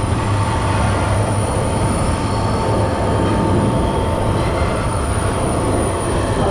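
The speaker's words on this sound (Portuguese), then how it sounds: "olha que legal essa filmagem que você fazer do trem saindo do túnel aí" A passenger train on the Curitiba to Morretes line rumbles steadily as it comes out of a tunnel, loud and continuous, with a broad roar of wheels on rails and no talk.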